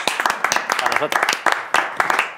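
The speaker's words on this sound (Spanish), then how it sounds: "Un aplauso para ellos." A studio audience at a Christmas awards show claps in a short burst of sharp, uneven applause while a presenter keeps talking over it.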